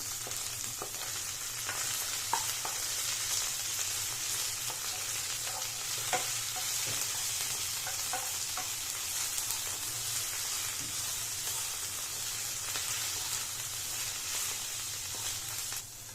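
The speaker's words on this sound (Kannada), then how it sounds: "ನಂತರ ಒಂದು ಕಪ್ ಆಗೋಷ್ಟು ಪುದೀನ ಅದನ್ನು ಹಾಕೋತಾ ಇದ್ದೀನಿ ಹಾಕ್ಕೊಂಡು ಚೆನ್ನಾಗಿ ಫ್ರೈ ಮಾಡಿ" Mint leaves fry in a pan for palak vegetable pulav, giving a continuous crackling sizzle with frequent stirring scrapes and taps, close and steady, with no talking.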